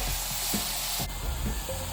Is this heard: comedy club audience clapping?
no